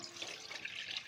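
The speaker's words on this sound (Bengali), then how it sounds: "এবার আমি দিয়ে দেবো কিছুটা পরিমাণ জল" Water splashes briefly into a pot being set up for steaming taro-leaf parcels, a soft, faint trickling pour lasting about a second with no voices.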